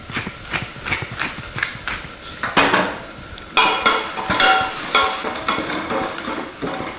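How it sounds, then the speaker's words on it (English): Garlic and onions sweat in olive oil with cracked pepper, under a soft sizzle and close, rhythmic spoon strokes scraping the pan at a brisk, steady pace. "I'm gonna go for a little sweat here."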